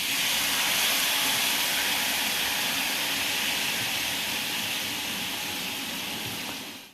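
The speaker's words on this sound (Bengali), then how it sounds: "এবার মশলাটা কড়াইতে দিয়ে দিলাম" Spice paste of ground chilli, a little turmeric, salt and a splash of water sizzles loudly in a hot kadai, a steady broadband hiss that holds evenly for several seconds before cutting off.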